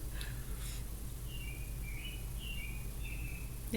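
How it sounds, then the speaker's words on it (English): Birds chirp outside at 5 a.m., a few thin high calls repeating faintly over a steady low hum of background noise. "No, it's the birds outside."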